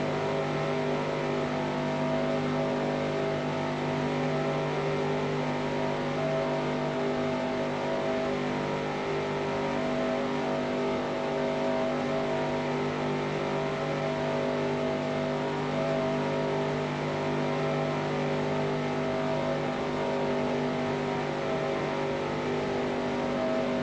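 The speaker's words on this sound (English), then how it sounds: "the car just sounds and feels so much slower when I'm not in the draft" A race car engine in the video game NASCAR Racing 2003 Season, at Talladega, running outside the draft, roars continuously at a high, steady pitch, loud and close, holding a sustained drone with little variation.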